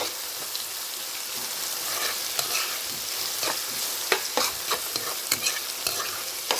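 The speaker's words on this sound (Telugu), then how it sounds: "ఉల్లిపాయ వేగాలి, ప్రతి దాంట్లోనూ ఉల్లిపాయ వేగాలి ఫ్రెండ్స్" Onions frying in a pan for a curry, with a constant close sizzle and a run of sharp spoon clicks and scrapes against the pan as they are stirred, the strokes growing more frequent toward the end.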